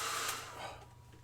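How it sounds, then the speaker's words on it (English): Hair dryer blowing over fresh paint on a Funko Pop Warhammer 40,000 Intercessor figure, a brief soft whooshing airflow that fades slightly, heard alone. "let's use the hairdryer again"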